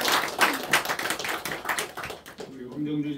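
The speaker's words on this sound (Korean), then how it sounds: "하나님께 영광의 박수를 올려드리겠습니다." A church congregation claps in applause during a Sunday worship service, a dense run of overlapping hand claps close by, with a spoken voice over it and the clapping thinning out near the end.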